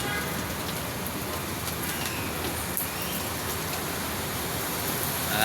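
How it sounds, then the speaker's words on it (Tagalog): Heavy, unceasing rain on a street near Tomas Mapua as evening falls, a steady dense hiss with fine patter filling the whole stretch, swelling slightly louder at the very end. "Walang tigil yung ulan guys."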